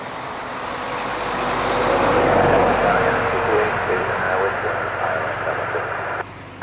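ATR turboprop aircraft from Bristol at Dublin Airport, a broad swelling roar that builds to a peak midway then holds and fades slightly, fairly loud and distant-sounding.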